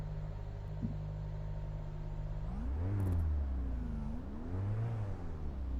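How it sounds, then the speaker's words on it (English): Car engine in the Assetto Corsa EVO sim game idling smoothly, then revving up in two rising and falling sweeps, a loud close drone with no voices. "I'll get the car started"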